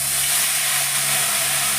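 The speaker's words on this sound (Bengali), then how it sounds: "আমি চিকেনটাকে এখন এই তেলের মধ্যে দিয়ে দিলাম" Onion paste and chicken sizzle in hot oil in a kadai, a steady, close hiss of frying that holds evenly throughout with no one talking.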